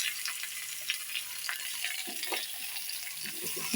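Cut tomatoes go into sautéed onions in a small pan for chicken foot soup, giving a constant close sizzle with soft scattered stirring taps.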